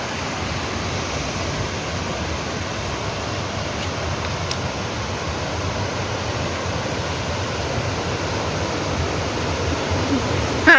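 The Água Azul waterfall in Brazil gives a constant, broadband rush of falling water, steady and close with no break in its roar.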